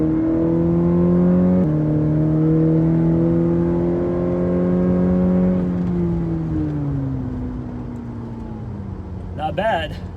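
A Cadillac CT4-V's 2.7-liter turbo four-cylinder pulls hard under acceleration, its engine tone climbing steadily, shifting once, then easing off as the revs fall away, with a brief sharp noise at the very end.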